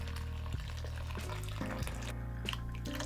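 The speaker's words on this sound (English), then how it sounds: "Now that our water is heated up, we can go ahead and pour." Hot water pours steadily over coffee grounds, a continuous close trickle with a background hum and no talking.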